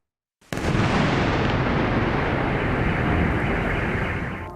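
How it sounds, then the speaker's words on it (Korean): A large explosion in a residential area of Kyiv during a Russian airstrike, an abrupt loud blast that becomes a sustained roaring rumble filling the rest of the moment, with no talking. "도심 주택가에 큰 폭발이 일어납니다."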